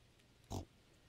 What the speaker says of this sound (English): I'll buy a pig.